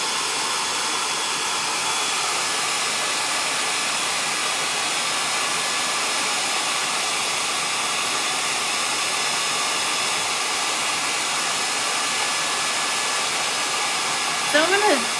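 A hair dryer blows steadily on a towel to dry a chalk-ink transfer, a loud, constant whooshing hum lasting the whole stretch without a break, with a faint voice briefly at the very end.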